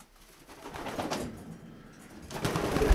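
Domestic pigeons coo in repeated soft, throaty phrases close by, with a louder burst of cooing near the end and no talking.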